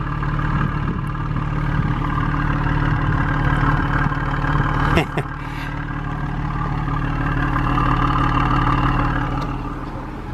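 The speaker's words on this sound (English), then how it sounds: "the soundtrack from this car is so good." A Jaguar XF's 3-liter V6 engine idles steadily with a low, even hum lasting throughout, heard up close with a brief clunk midway.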